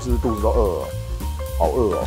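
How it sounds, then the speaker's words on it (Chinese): Pork and batter for a Hiroshima-style okonomiyaki sizzle steadily on a hot griddle, a constant crackle running underneath two people chatting. "听到这个吱吱吱的声音"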